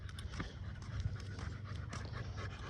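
An American pit bull terrier puppy pants rapidly and steadily close by in a yard, with quick rhythmic huffs throughout and a faint low background rumble.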